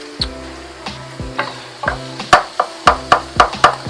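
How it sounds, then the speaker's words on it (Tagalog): Cabbage is stirred in a pan while cooking lumpia vegetables. A spatula knocks against the pan in a quickening series of sharp, ringing taps over a low sizzle, growing louder toward the end. "lalagay ko na yung ating repolyo."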